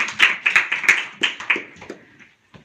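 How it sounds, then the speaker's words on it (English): A small audience claps for a staged script reading, a sparse run of distinct handclaps, close and crisp, thinning out and dying away near the end. "let's give a round of applause to"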